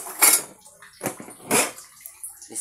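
A metal sandok ladle scrapes and clinks against a frying pan of hot oil, three sharp bright scrapes spaced apart with quieter clatter between them.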